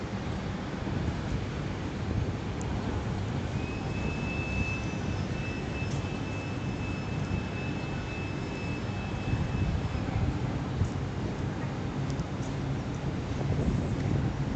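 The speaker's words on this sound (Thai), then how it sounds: "ลมค่อนข้างแรงนะครับ" Strong outdoor wind roars steadily and loudly across the microphone for the whole stretch, a dense broadband rush with a faint tonal whine threading through the middle, at Mahidol Phaya Thai under an overcast evening sky.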